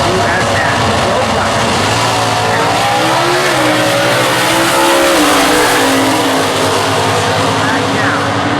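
Factory Stock drag race cars, a Ford against a Chevrolet, roar loudly at a national drag racing event, engines revving hard and sustained throughout with rising pitch as they accelerate, an announcer talking over the din.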